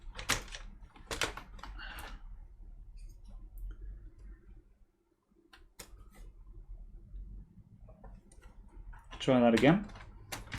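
Several sharp clicks from a computer case side panel latch being pressed down during an Aspire case swap, close by, with someone talking around them.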